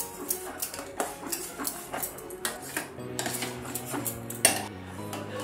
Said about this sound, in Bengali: দিয়ে তালের পাল্পটা ভালো করে একটু নেড়ে চেড়ে জাল দিয়ে নিচ্ছি